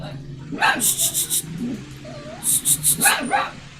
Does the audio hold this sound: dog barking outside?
yes